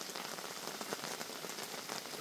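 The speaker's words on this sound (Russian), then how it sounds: "Вот это вот у нас зарядила непогода. Вот так вот дождик валит." Heavy rain pours down during a fishing trip on the Ili River at Araltobe in bad weather, a dense, steady hiss of drops drumming on surfaces with no voices.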